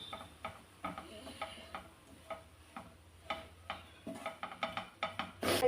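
Cooked drumstick leaf thoran is scraped and spooned from a pan onto a plate, with a string of light metallic clicks and scrapes at an uneven rhythm, fairly quiet and close.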